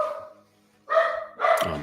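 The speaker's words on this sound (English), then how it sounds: "oh my gosh, this dog." A dog barks in two bursts, loud and close, with a pause before the second volley of sharp, harmonic yaps and no talking over them.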